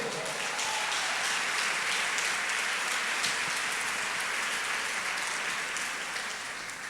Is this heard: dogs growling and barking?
no